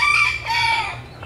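A rooster crows nearby, one loud drawn-out call heard alone.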